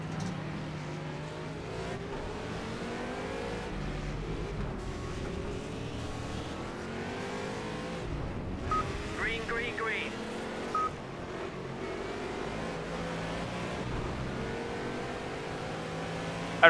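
Race cars in the video game Project CARS accelerate away from the grid at a race start, a layered engine drone with rising revs under continuous commentary.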